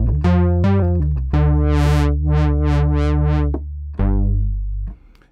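SubBoomBass-2 synth bass played dry through an 18 dB low-pass filter, a run of loud, sustained bass notes with gliding portamento and filter sweeps opening and closing, ending on a fading low note, no talking.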